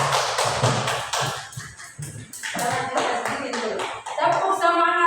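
Primary school class clapping hands for a student in a rhythmic pattern, a run of sharp near claps in quick groups with a few thumps, while voices chant along.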